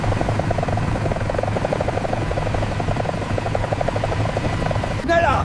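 An Apache attack helicopter flying in an animated or video-game scene, its loud, steady rotor thump and engine drone filling the whole stretch before a brief shift in sound at the end.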